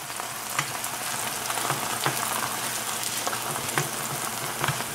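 A vegan egg omelette fries in a pan with a steady, close sizzle and crackle, occasional pops rising above the continuous hiss, and no voices.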